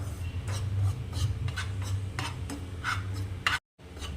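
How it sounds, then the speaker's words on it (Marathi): Semolina roasting in a pan over a slow flame, stirred with a spoon that makes repeated soft rasping scrapes in an uneven rhythm, close and fairly loud, with a brief dropout near the end. "हे बघा तीन ते चार मिनिट झाले स्लो आचेवर छान मी रवा भाजून घेत आहे"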